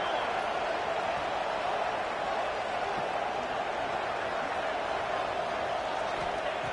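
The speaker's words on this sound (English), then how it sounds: "the crowd coming to life here, trying to help this defense down in the red zone" Football stadium crowd cheering to back the defense in the red zone, a steady, distant roar of massed voices that stays level throughout with no single standout shout.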